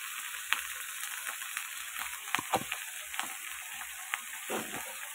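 Onion sizzles steadily in a hot pan at a home stove, a dense, continuous crackling hiss up close, with occasional scrapes and stirring clatters breaking through the frying.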